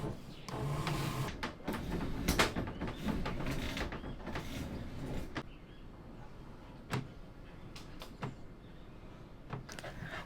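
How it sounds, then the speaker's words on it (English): A tri-fold door on a Seawind catamaran is lowered on a winch line with the clutch open, giving a continuous mechanical whir and grinding with occasional knocks and clicks, fairly close and steady throughout. "Open the clutch and slowly lower the door."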